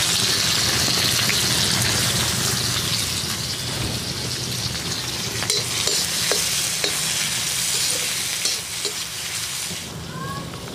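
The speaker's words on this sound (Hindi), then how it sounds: "देखिए अब कटे हुए प्याज को डाल देती हूँ।" Chopped onions fry loudly in a pan for veg chowmein, giving a dense, continuous sizzle with scattered stirring scrapes, close and steady throughout with no talk.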